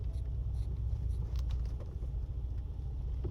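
Morning traffic of cars entering a military base makes a low, steady engine rumble with wind buffeting the microphone, close and continuous.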